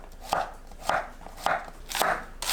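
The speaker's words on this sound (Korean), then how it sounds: "애호박은 4등분해서 얇게 썰어줍니다" Knife slicing zucchini thinly on a cutting board, a steady series of five close crisp chops at a regular rhythm.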